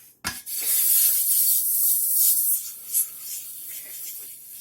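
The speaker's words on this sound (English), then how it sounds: "As long as you can hear it scraping, you know that it's working." A dished whetstone being ground flat against a flattening stone, producing a steady, close abrasive scraping rasp that runs almost unbroken after a sharp start, with brief louder strokes near the end.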